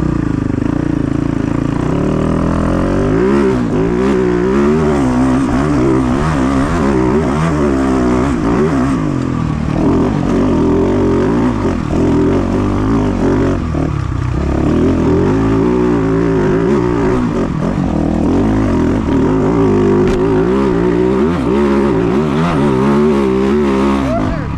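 KTM 450 Dakar rally motorcycle ridden at full throttle, a loud, continuous single-cylinder engine roar with wavering pitch as revs rise and fall, close and constant throughout.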